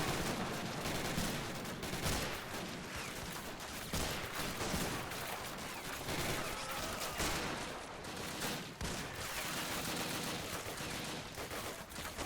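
Sherman tanks lay down covering fire in the Men of War Assault Squad game during a WWII battle at Foy, a dense, continuous clatter of gunfire and machine-gun bursts, distant and fairly faint, with no voices.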